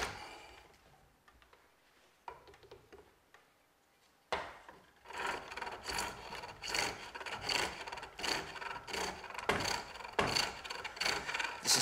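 Wood is turned on a pole lathe to bring an out-of-round piece back to round, heard as a close rhythmic series of scraping and rasping strokes that begins after a quiet, sparse stretch and repeats steadily.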